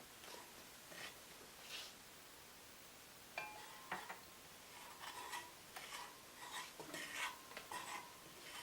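Wooden spoon stirring a cooking pot for an Ayurvedic dish with asafoetida, garlic and ginger, heard as intermittent soft scrapes and clinks at a quiet level with no talking.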